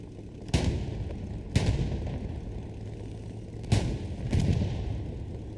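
A Panzer IV tank cannon firing in the Hell Let Loose video game, with four heavy booming shots spaced unevenly a second or two apart, each trailing a rumbling decay over steady battlefield noise.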